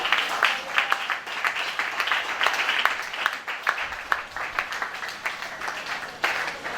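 A church congregation at a Sunday service applauds and cheers while standing, a loud, sustained crowd of clapping hands with irregular sharp peaks and voices mixed into the din.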